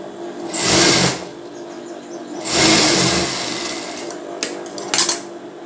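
A sewing machine runs a stitching line along the edge of a bra piece in two loud bursts of steady whirring, each about a second long. Short mechanical clicks and rattles follow as the stitching pauses.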